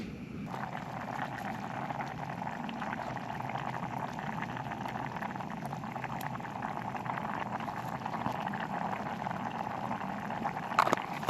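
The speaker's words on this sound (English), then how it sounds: "This has been boiling away now for quite some time, so this is almost done." A pot of beef stew thickened with gravy granules bubbles steadily over a campfire in woodland, a continuous close simmering burble with small pops and no talk.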